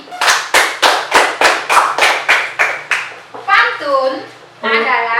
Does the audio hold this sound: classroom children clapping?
yes